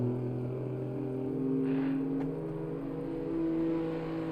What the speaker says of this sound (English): I love hearing the noise of these cars in the circuit.